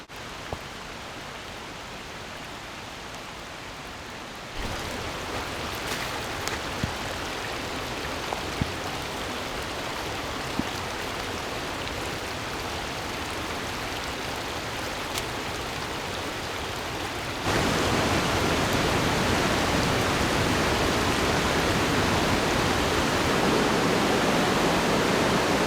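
Roaring Pacific Northwest river in the rain gives a steady broadband rush that grows louder partway through and then jumps to a fuller, heavier roar, continuous and close with no voices.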